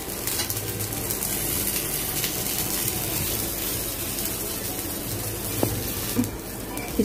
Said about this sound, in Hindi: थोड़ा ऑयल डाल के इनको अच्छे से सुनहरा रंग आने तक भूनेंगे।